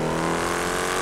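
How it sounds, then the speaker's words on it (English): A loud Dodge Durango engine in GTA 5 drones steadily and close with a rough, rumbling tone, alone and unbroken for about a second. "I'm trying not to talk over this Durango. This thing is just loud."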